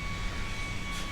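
An airplane passes overhead outdoors, producing a steady broad roar with no talking.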